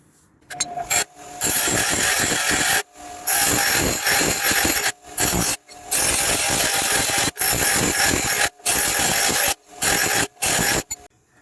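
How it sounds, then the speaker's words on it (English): A bench grinder trims steel lift kit parts for a CFMOTO Zforce 800, grinding loudly in repeated bursts of a second or two separated by brief pauses. "you're going to want to grind off roughly 1/4 of an inch, and I'll be using my bench grinder for that"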